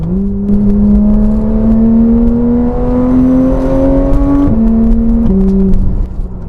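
Inside the cabin of a 2015 Porsche 991.1 911 GT3, a loud, steady engine drone climbs gradually in pitch, drops briefly with a gear change, then rises again, with no speech over it.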